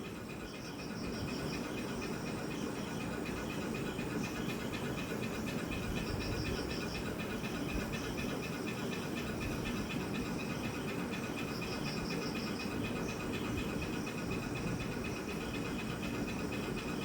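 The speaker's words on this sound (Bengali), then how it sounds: "গরম তেলের মধ্যে লবণ হলুদ মাখানো ডিমগুলোকে দিয়ে দেব। ডিমগুলোকে ভাজবো।" Eggs coated in salt and turmeric fry in hot oil in a kadai, a steady loud broadband sizzle and hiss continuing evenly throughout without pause.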